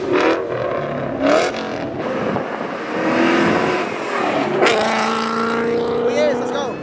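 A Ferrari 458 accelerates hard on a street during a Mustang Week car meet, its engine rising in a loud, high wail that swells and passes close by, mixed with crowd noise and excited voices.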